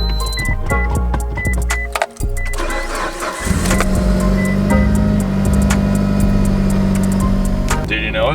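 A Mitsubishi Lancer Evolution 8 engine cranks with a whirring starter, catches and settles into a steady, close idle that hums on after the start. It is heard up close, and brief voices sit underneath it.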